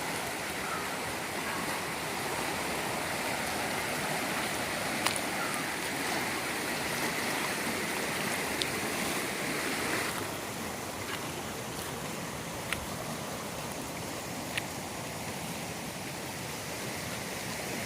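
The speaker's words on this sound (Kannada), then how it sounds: "ಈಗ ಅಷ್ಟು ಜೋರು ನೀರಿನ ಸೌಂಡು" Steady, loud rushing of a stream fills the whole stretch, a dense continuous roar of flowing water with no voices.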